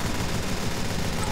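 Rapid boosted-speed gunfire in a Team Fortress 2 Mann vs Machine match, a dense, continuous rattle of shots with no gaps, steady and close throughout.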